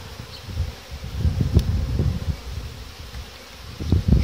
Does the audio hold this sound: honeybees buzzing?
yes